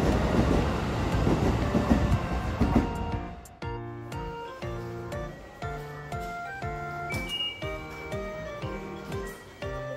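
Shin-Keisei train pulling out of a station, loud rumbling and rising motor whine close by, with wheels clacking rhythmically over rail joints as it gathers speed.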